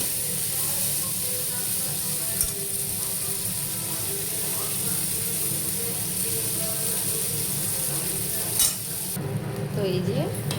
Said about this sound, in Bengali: তো এই যে জল ঢেলে দিয়েছি